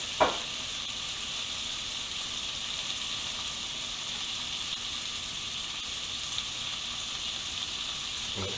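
Steak sizzles steadily in a basic cast iron skillet, seasoned with only salt and pepper, giving a continuous close hiss of frying with a single small clatter at the start and no voices.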